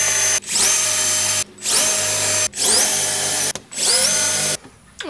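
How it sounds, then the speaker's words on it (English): A power drill bores holes in wood panels for van wheel well boxes, four loud bursts of whining motor each ramping up in pitch, separated by short pauses, close and alone. "Okay, so I drilled out all of the holes on the side."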